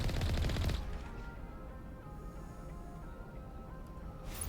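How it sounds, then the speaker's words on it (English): Gunfire from enemies in the video game Mass Effect on a lava planet: a loud burst of rapid shots at the start, then a low rumbling ambience, with another short burst at the end. "Aw, you're shooting at me."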